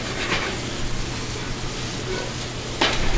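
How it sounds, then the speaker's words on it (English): Onions sauté in a pan at a cooking show in a restaurant, giving a steady soft sizzle over a low hum, with a couple of brief clanks or stirring scrapes. "So onion, you don't want it to be hard, so you want to put it in early, saute it up, soften it up before you add your sauce"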